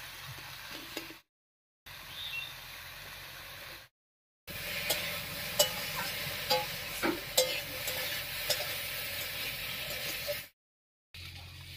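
Vegetables with turmeric and salt frying in a pan, a steady sizzle broken by repeated scraping and stirring clatters, with brief gaps of silence between segments.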